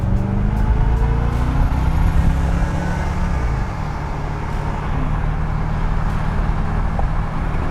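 A 1973 Corvette with an automatic transmission kicks down and accelerates at full throttle, its loud engine droning steadily near the microphone as the revs climb and a gear change comes midway.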